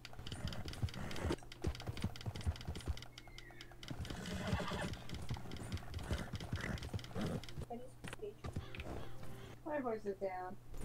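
Horse in the video game Red Dead Redemption 2, hooves clip-clopping steadily with a whinny toward the end, under ongoing game dialogue and speech.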